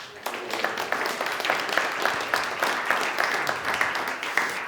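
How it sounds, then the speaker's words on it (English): An audience at a symposium applauds donors, with a steady patter of many hands clapping throughout, moderately loud and even, with no talk over it. "Let's give all of them a round of applause."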